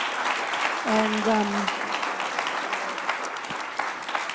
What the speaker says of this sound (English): A round of applause for both of you.